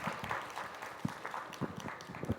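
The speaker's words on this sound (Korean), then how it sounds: "박수 부탁드립니다." Scattered clapping from an audience at an academic conference in Korea, a moderate, uneven patter of hands spread through the room without voices.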